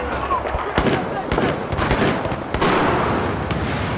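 Grenade blast and gunfire in Battlefield 4 on the Flood Zone map: sharp bursts and cracks of explosions and shots hit repeatedly over a dense, noisy battle background, loud and near, with players talking.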